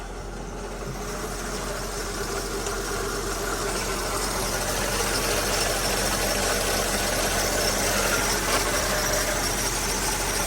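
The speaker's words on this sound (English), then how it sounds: "There's a little bit of rattling going on in the engine compartment. You can hear it through the grille." A 2005 Mercedes SL500 idling, heard from near the front grille: a continuous engine hum with a light rattle from the engine compartment running steadily underneath, with no talking.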